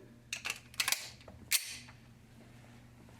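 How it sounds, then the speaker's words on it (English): A Beretta M9 pistol gives a few sharp metallic clicks and a clack as the magazine is released, close and crisp, against a faint background hum. "Maybe I should eject the mag"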